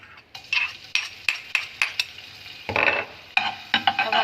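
A spoon of garlic tipped into a hot oil-slicked pan, followed by a run of sharp close metallic taps and scrapes of the spoon against the pan, with brief bursts of sizzle.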